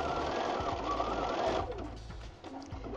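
A Bernina 570 QE Kaffe Edition sewing machine running steadily while free-motion quilting with its stitch regulator, a fast even whirring hum that slows and fades near the end.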